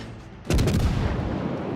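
Warship guns firing in World of Warships from the heavy cruiser Atago, a loud sudden salvo boom followed by a rumbling, decaying roll of overlapping blasts.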